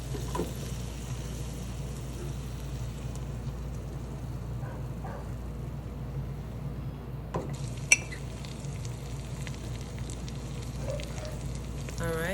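Flour and oil or butter cooking into a roux in a pan, stirred steadily with a faint continuous sizzle and occasional scrapes of the utensil against the pan, close and quiet, with no talking.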